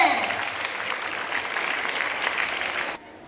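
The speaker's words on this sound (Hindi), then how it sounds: "इन बच्चों के लिए जोरदार तालियां बजा दीजिए" Loud, steady applause from a school crowd at a Republic Day celebration, cheering on children, a dense wash of clapping that runs for about three seconds and then cuts off abruptly.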